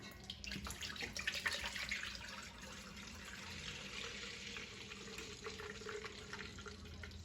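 A gallon of milk pours in a steady, soft stream into a pot, a continuous gentle splashing that holds at a low, even level.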